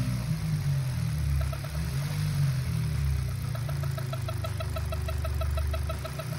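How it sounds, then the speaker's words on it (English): A car engine idles with a steady low rumble while a rapid, regular ticking knock repeats through it, close and continuous; the noise stops when the engine is revved. "This customer has this extremely weird engine noise that stops when you rev it."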